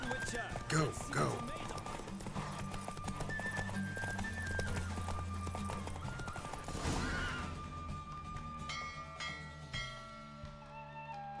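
Horse hooves clip-clop at a gallop during a race in The Witcher 3, a steady rapid beat with a whinny, mixed with game music and voice lines spoken over it.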